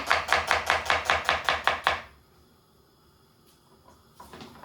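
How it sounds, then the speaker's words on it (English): Knife chopping peppers, mangetout and red onion on a board, about ten quick, evenly spaced, loud close chops, then quiet with faint kitchen movement. "some nice peppers, mangetout, red onion, delicious. I want to cut them everything nice and fine."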